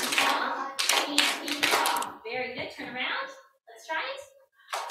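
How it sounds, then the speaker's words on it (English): Schoolchildren in a classroom clap together in a dense burst of hand claps lasting about two seconds, followed by an adult voice speaking plainly over the quiet room. "the rest of the class clapped it for her"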